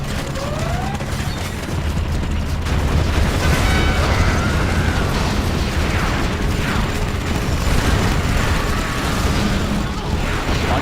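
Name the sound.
rocket bomb explosions in video game Command & Conquer Generals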